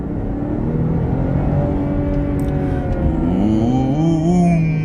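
A BMW 540i xDrive M Sport sedan accelerates hard in sport mode from about 4000 rpm, its engine note climbing in a loud, continuous rising whine heard from inside the cabin.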